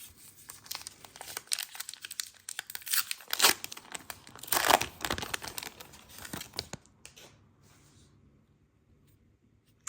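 Crinkly foil wrappers of Topps Heritage High Number 2024 baseball card packs are torn and crumpled open up close in bursts of ripping and rustling, settling into quieter handling at the end.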